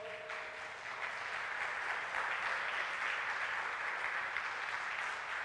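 A church congregation at a worship service bursts into applause for God, the clapping swelling after the first second into a dense, steady roar heard at a moderate distance.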